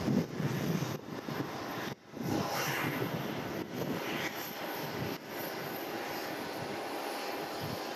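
Steady broadband roar of aircraft at Miyako airport, where a Boeing 737 sits parked near the terminal; the engine noise holds fairly constant with a few brief dips, and no one speaks.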